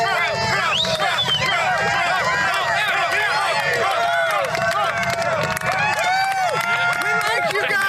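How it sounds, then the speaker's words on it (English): A large political rally crowd chants in unison for Trump and RSBN, a dense, loud roar of many voices that keeps going steadily, with cheering and clapping mixed into the babble. "we're hearing almost as many RSBN chants as we are Trump"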